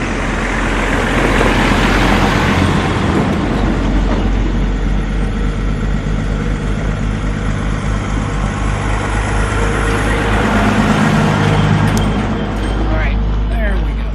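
Heavy log trucks rumble past a cyclist on a road, a loud, deep engine drone that builds and carries on close by, with someone talking over it.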